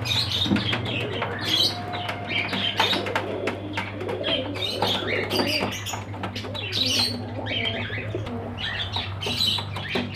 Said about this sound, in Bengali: এখানে দেখে নাও কিছু সিরাজি পায়রা আছে